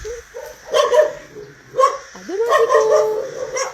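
Small dogs barking in repeated yappy bursts close by, with a rising whine between barks and a person speaking briefly over them.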